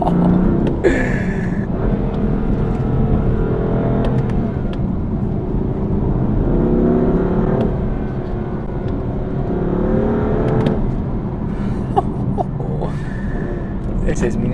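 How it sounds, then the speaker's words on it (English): BMW M4 sports car accelerating hard on open roads, a steady, loud engine roar building and rising in pitch from inside the car, with a person talking over it. "You put your foot down, it just goes."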